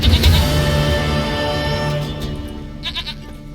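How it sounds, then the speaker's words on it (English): A goat in The Witcher 3 video game gives a close, wavering bleat, then a few softer bleats and clicks trail off over several seconds. "Goat of mine, dearest, sweetest goat."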